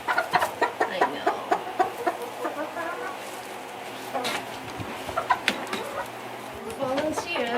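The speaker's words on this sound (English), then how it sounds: "We did name one of our new chickens Tiny because she was the smallest one" Hens cluck in short repeated bursts nearby, with a few higher squawks mixed in and people talking quietly in the background.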